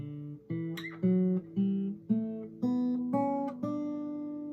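A guitar plays a short melodic line of single plucked notes, about eight in a steady rhythm, clear and close with no talking.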